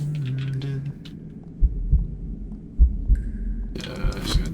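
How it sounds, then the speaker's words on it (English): A theatrical heartbeat sound effect thumps in deep, low double beats at a slow, steady pace under a faint hum, with a brief tone and a wash of louder noise near the end. "The heartbeat thing is like,"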